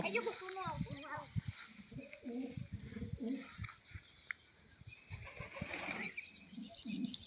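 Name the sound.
pigeons inside a well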